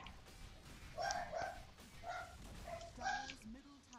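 Dogs inside a home let out several short, faint barks and yips in uneven bursts, set back from the microphone, with a person talking quietly underneath.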